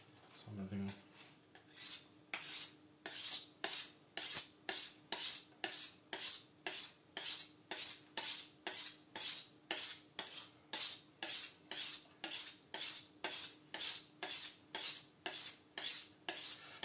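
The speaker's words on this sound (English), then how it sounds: "I'm sharpening a knife." Kitchen knife being sharpened with long rhythmic strokes, about two per second, each a bright scraping rasp, close and clear, steady throughout with a faint background hum and no talk.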